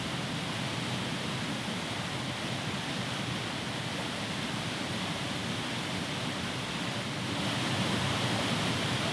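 Proxy Falls, a tall waterfall in a snowy forest setting, gives a loud, unbroken roar of rushing water that swells slightly near the end, with no voices.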